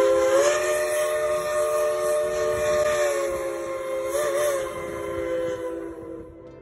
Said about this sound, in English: The Cass Railroad train was a very cool thing to see in action.